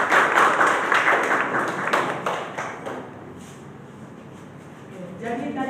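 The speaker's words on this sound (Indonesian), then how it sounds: "Tepuk tangan untuk kelompok 3." Classroom applause for a student group at a microteaching session, a brief patter of handclaps over chatter that fades out, then a voice starts speaking.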